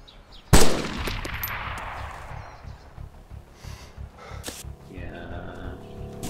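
A single loud, sharp AS50 sniper rifle shot rings out in the ArmA 2 Wasteland mod, followed by a long decaying tail and quieter game ambience with scattered small thuds.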